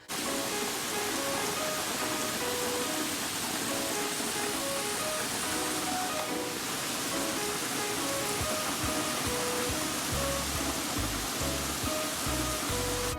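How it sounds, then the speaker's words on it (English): Heavy rain pouring down outside in a downpour, a dense, steady roaring hiss that stays constant throughout, loud and close, with some low thumping toward the end. "it means like rain's coming down hella hard."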